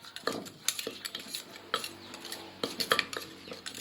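Wet pounded rice mixture with sugar being stirred in a pot, a spoon scraping and clinking against the metal in quick irregular strokes, close and fairly quiet, with no talking.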